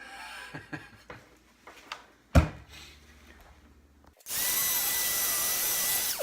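After a few knocks and handling sounds, a power tool starts up and runs steadily and loudly on maple wood while carving a kuksa cup, a continuous whirring buzz for several seconds.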